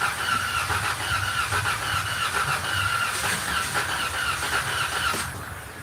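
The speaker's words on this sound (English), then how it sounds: "What will happen if I crank it over?" A car engine cranking over without catching, a steady, continuous whirring grind with a whining squeal, loud and close, running unbroken for several seconds before easing slightly at the end.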